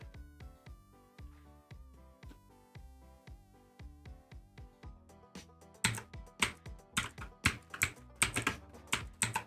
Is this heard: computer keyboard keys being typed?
yes